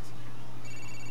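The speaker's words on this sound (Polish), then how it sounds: "że telefon dzwoni" A phone rings in Grand Theft Auto IV, a steady electronic tone running under game sound and faint background chatter.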